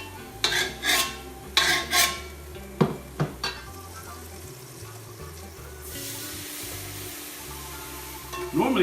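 Broccoli cooks in a hot wok on an induction burner, giving a steady sizzle with several scraping stirs near the start and a low electrical hum underneath, all close and loud.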